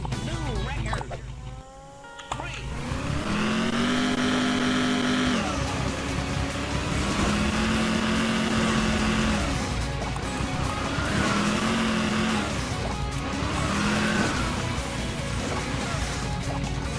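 An engine in Hill Climb Racing 2 drones and revs in repeated rising pulls, loud and continuous over roughly seventeen seconds, with a voice talking over it.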